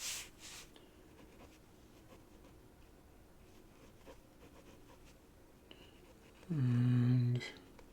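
A ballpoint pen sketches on paper with soft, close scratching strokes, faint and intermittent, and a short tonal hum cuts in near the end.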